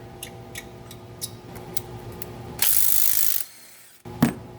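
A hand ratchet clicks as it tightens the starter bolt on a 2009 Subaru Forester, close-up rapid ticking in short strokes, then a loud metallic scrape and a sharp final clank.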